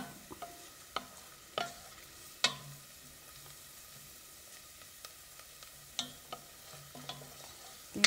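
Food browns slowly in a pan before garlic goes in, a faint soft sizzle under sparse, spaced utensil taps and clicks, close and quiet with no voices.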